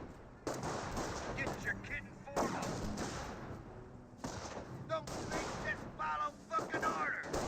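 Squad rifle and machine-gun fire in the WWII strategy game Company of Heroes, US forces against Panzer Elite grenadiers with G43 rifles: dense rattling bursts and volleys, nearly continuous, with brief pauses between exchanges.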